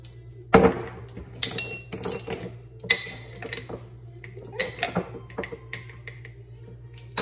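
Sea salt, mustard powder and other condiment ingredients are dumped into a container, with a sharp clink followed by scattered light knocks, taps and shuffling of kitchenware nearby, and no talking.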